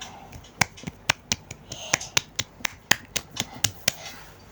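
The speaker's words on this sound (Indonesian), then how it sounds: "dia itu tuh tepuk tangannya pelan kayak gini guys" Soft hand claps, about sixteen light, evenly spaced slaps in a steady rhythm, close and quiet, for a story about a birthday, with no talking.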